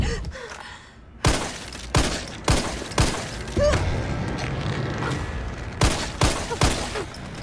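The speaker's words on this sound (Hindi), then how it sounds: "अरे भाई इसके मुंह पे गोली चला दी भाई," Video game gunfire in Resident Evil 3: a series of sharp, loud shots in irregular bursts, some clustered together, over a rumbling background with no talking.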